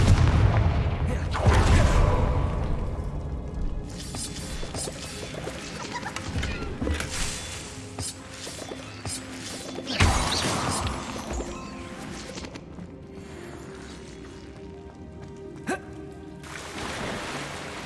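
A Confringo fire spell blasting in a Harry Potter wizardry video game, a loud booming explosion up front followed by crashing, rumbling debris and scattered impacts that slowly fade under game ambience.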